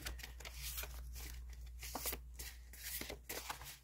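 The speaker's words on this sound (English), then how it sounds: "This is really hard to shuffle this way." Russian fortune telling cards shuffled by hand in a steady run of soft riffling and slapping card sounds, close and fairly quiet, with a low constant hum underneath and no talking.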